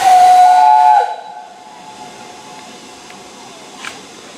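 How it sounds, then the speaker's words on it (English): A steam locomotive whistle that is not working properly sounds loud for about a second, thin and wavering, then fades into a low hiss and distant rumble, on the Bluebell Railway. "It almost sounds as though that whistle just doesn't want to work properly."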